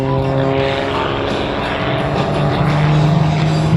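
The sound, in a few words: Wolf Pitts Pro aerobatic aircraft engine at airshow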